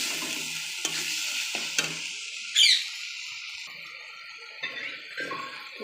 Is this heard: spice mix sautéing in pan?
yes